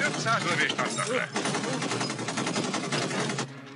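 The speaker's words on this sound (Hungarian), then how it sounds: "Az elkövető 500 lövést adtak le." Automatic AK-47 rifle fire rattles through a film shootout, dense rapid bursts of overlapping shots forming a continuous loud clatter, with shouting voices mixed in at the start.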